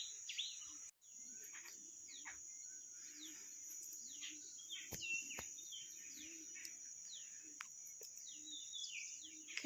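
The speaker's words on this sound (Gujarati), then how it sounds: "કેવા ચકલા બધાય જો" Sparrows chirp and tweet repeatedly around a resort in Sasan Gir, quick scattered calls near and far over a constant high insect drone in an otherwise quiet outdoor setting.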